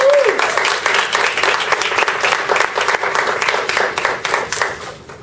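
A Toastmasters club audience breaks into applause and cheering for its president, a thick burst of clapping that swells early and then carries on steadily with small rises and dips.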